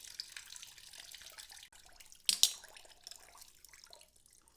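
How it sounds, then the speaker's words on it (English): Coolant water drips and trickles from a Yamaha Tenere 700 motorcycle's cooling system as it drains, a faint steady patter broken by a couple of sharper splashes near the middle. "now that we've got all of the water drained out of the system"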